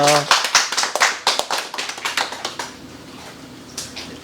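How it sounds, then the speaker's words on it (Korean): An audience at an on-site grape-growing consulting session gives a short burst of applause to welcome a research lecturer. The sharp claps are close and dense at first, then thin out and fade within about three seconds. "큰 박수"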